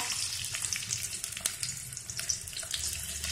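Chopped onion frying in hot oil in a pan for kurdai bhaji, a steady hissing sizzle with soft crackles and faint stirring clinks, close and alone.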